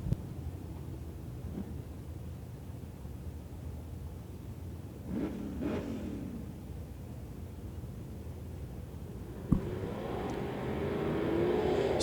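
Limited modified race cars on a dirt oval at Devil's Bowl Speedway roll slowly into turn three, engines rising and fading in a couple of distant swells before a louder, building roar near the end.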